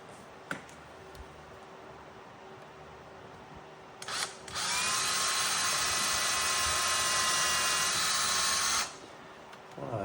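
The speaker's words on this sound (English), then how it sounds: "It's always a good idea to punch your holes before you drill them" A handheld power drill bores a hole for a volume knob; after a brief start-stop, it whines loudly and steadily for about four seconds, then cuts off.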